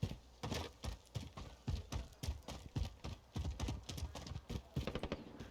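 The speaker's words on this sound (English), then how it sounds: "Could have been my footsteps on the rocks." Quick, steady crunching video game footsteps on rocky ground, a near continuous gait with crisp scraping impacts and no talking.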